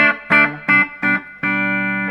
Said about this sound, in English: it's a lovely reverb